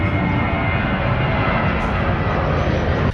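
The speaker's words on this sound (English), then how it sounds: "this little airplane that just flew by me" Small propeller airplane passing close overhead, a loud, steady, broadband engine drone that fills the whole moment without letting up and drowns out any other sound.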